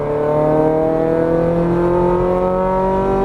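A Ferrari 430 Scuderia engine pulls hard on a race track, its steady, loud harmonic tone climbing smoothly in pitch through the whole stretch as the throttle is squeezed down, with no voices over it.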